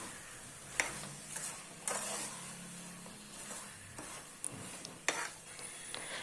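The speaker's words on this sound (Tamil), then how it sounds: "சிக்கன் ஆட் பண்ணதுக்கப்புறமா எல்லாத்தையும் சேர்த்து மிக்ஸ் பண்ணி இது ஒரு 5 மினிட்ஸ் நம்ம நல்லா குக் பண்ணி எடுத்துக்கலாம்" Chicken pieces cooking in a pan for dum biryani, with a quiet sizzle under repeated sharp scrapes and clinks of a spoon stirring against the pan.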